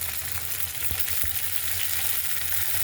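Chopped onion and green chilli frying in a little oil, a loud, steady sizzle up close with a low hum underneath and a couple of quick stirring knocks.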